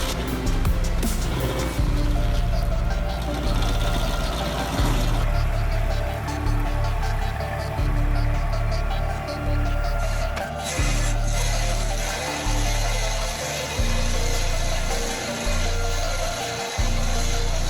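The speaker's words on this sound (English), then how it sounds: "WG-24 stump grinder roars to life, tearing through stubborn stumps in an instant." A WG-24 stump grinder runs with a loud, continuous engine roar and heavy grinding as it tears through stubborn stumps, droning steadily and close throughout with slight changes in load.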